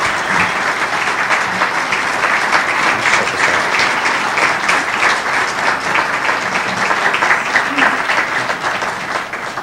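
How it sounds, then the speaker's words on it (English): An audience at an annual charity walk event claps in a long, full round of applause, loud and continuous from start to finish with faint crowd murmur underneath. "I think we owe them another round of applause for what they've done"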